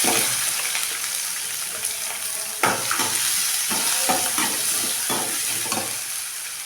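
Onions and green chillies fry in oil for rice upma, a constant loud sizzle broken by regular spatula strokes and scrapes against the pan, close up and without speech.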